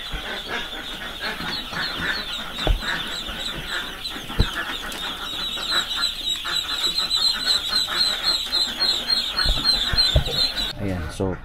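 Ducks in a hanger-type poultry house with solar-powered electricity, a dense crowd of quacking and honking calls filling the space steadily and fairly loud, with occasional louder bursts and faint voices in the background.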